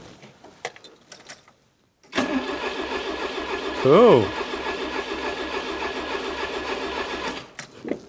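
A barn-find Peugeot 304 cranks and its engine starts at about two seconds, then settles into a steady, fairly loud idle with a brief rev near four seconds, cutting off before eight seconds; a voice speaks briefly at the start.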